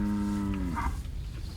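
A single Senepol cow gives a drawn-out moo that fades away, set against a steady outdoor background with no voices.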